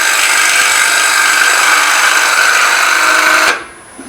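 A turning tool cuts steadily into a side grain wooden bowl on a lathe, a loud continuous hiss and scrape that holds for several seconds, then breaks off abruptly as the tool lifts away.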